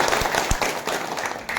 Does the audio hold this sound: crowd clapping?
yes